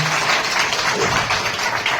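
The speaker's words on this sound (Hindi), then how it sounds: "एक बार इनके लिए जोरदार ताली हो जाती है" Meeting audience at a political party gathering clapping together, a steady, dense patter of many hands at a loud, even level with no talking over it.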